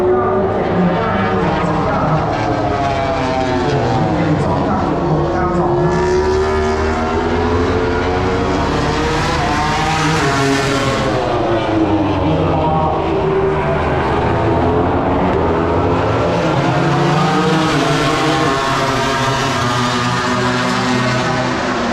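Loud, continuous roar of high-revving MotoGP racing motorcycles sweeping past at Buriram, pitch rising and falling as bikes pass close by, with crowd noise and a voice underneath.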